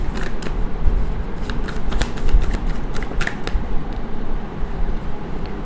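Tarot cards being shuffled by hand, a dense run of soft riffling and flicking card slaps that continues steadily throughout at close range, with no voices.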